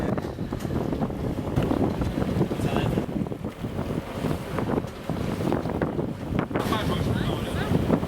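Gusty, unsteady wind buffets a sailboat at sea on a Bahamas passage from Chubb Cay to Nassau, a constant roaring rush with wind noise on the microphone and water wash beneath.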